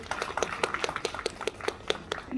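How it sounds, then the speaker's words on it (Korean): An audience claps for the hosts at a live-commerce broadcast event in Michuhol-gu: steady, rhythmic hand claps from a modest crowd, evenly paced and fairly close, with no talking. "박수 부탁드립니다."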